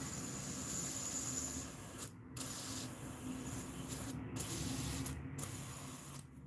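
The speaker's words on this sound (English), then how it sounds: "Make sure it's gonna spray correctly now." An airbrush sprays paint onto bluegill fishing lures in steady hissing bursts, with short pauses between a few sprays and faint mechanical clicks, close and fairly quiet.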